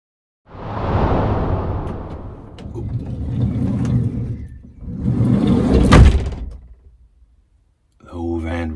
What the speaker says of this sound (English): The whole van rocks when you close the door.